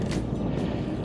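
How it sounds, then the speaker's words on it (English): Strong wind roars across the summit of Bakestall in the Lake District fells near Skiddaw at dawn, a continuous low buffeting rumble close to the microphone. "Really windy."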